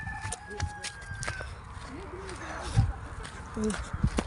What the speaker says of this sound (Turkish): Bu tavuğumuzu çekiyoruz.